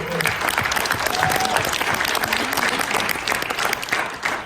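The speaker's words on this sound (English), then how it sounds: "let's give it one round of applause" Audience applause at a recruiting conference, a dense, loud, sustained round of clapping from a crowd, with some voices talking faintly underneath.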